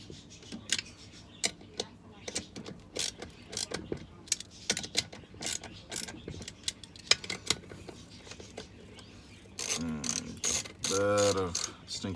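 A ratchet tightens bolts on a Stihl 070 chainsaw engine, with repeated close, crisp clicking strokes in irregular bursts and a denser, louder run of ratcheting near the end, and no talk over it.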